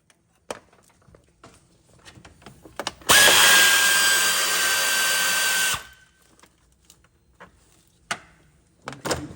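A cordless power tool whirs loudly and steadily for about three seconds while removing the radiator fan from a 2009 Suzuki Grand Vitara, with scattered clicks and clunks of handling parts before and after.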